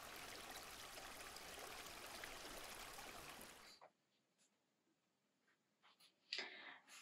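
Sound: river water flowing

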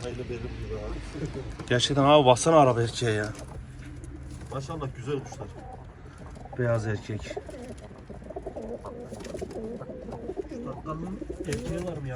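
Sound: pigeons cooing, play pigeons

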